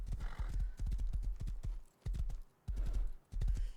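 Horse hooves clip-clop at a gallop in the survival game Rust, a loud, close, rapid rhythmic pounding with short pauses and an occasional whinny.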